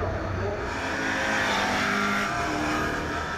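Race cars lapping the circuit at the Le Mans Finals, a continuous loud engine roar that swells as the cars pass, with faint tyre noise and no talk.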